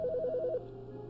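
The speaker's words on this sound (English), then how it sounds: "There's a phone ringing." A phone in The Stanley Parable video game rings with a short rapid electronic trill of alternating tones, about half a second long, then cuts off into a quiet room hum.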